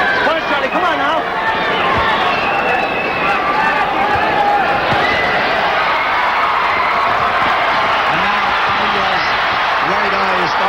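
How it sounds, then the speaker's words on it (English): A boxing arena crowd at the Olympic grows loud with sustained roaring and cheering, a dense wall of noise heard beneath a commentator's voice. "Crowd coming alive at the Olympic"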